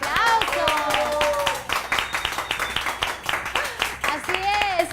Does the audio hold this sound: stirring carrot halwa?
no